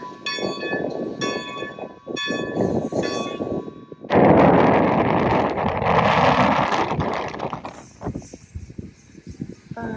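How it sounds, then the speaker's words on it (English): Rail cars on the Strasburg Rail Road creak and clank as an engine couples on at the front, with a loud rushing hiss, metallic squeals and scattered knocks, fairly close. "I think they are attaching the engine in front of the train."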